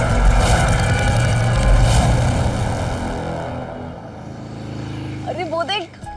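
A motorbike engine roars loud and close in a steady broadband rush that eases slightly over the seconds, with voices talking near the end.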